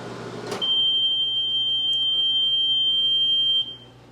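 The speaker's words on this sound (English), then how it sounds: "So you would just carefully program everything in and let the microwave do the rest." A 1978 Amana Radarange Touchmatic II Model RR-10 microwave oven runs with a steady low hum, joined by a long, loud, unbroken high-pitched beep that lasts about three seconds before cutting off.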